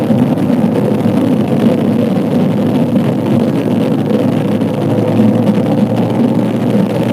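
A CFMOTO motorcycle rides nearby, its engine note a steady, dense drone mixed with heavy wind rush and road roar, continuous and loud throughout.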